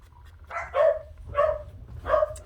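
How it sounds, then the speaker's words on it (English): Dogs in a home bark three times, with a short whine at the start, in short separated bursts at close range with no talking over them. "My dogs were going off barking at absolutely nothing that was outside."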